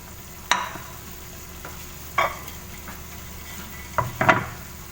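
Tuna sisig sizzling in a pan while being stirred, a steady frying hiss under a few sharp scraping clinks of a utensil against the pan, close and fairly quiet.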